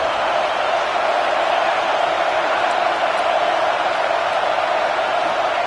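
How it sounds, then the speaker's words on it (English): Football stadium crowd at a Penn State versus Arizona State game roars in a steady, dense wall of noise, loud and sustained throughout with no single voice standing out. "This crowd is trying to inspire this defense to make a big red zone stop"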